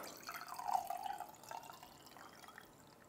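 Filtered water poured steadily into a container for propagating hoya cuttings, a soft, faint trickling stream that swells early and then tapers off, with no talking.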